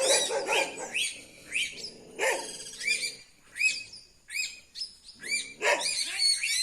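A flock of anis calls near a hawk, with repeated harsh squawks and chirps in bursts, some sounding close and loud and some more distant, with no voices over them.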